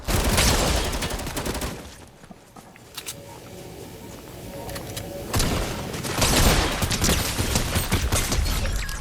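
Gunfire erupts in a Fortnite Zero Build solo match, dense bursts of rapid shots at the start and again toward the end, with a quieter gap of scattered sounds between.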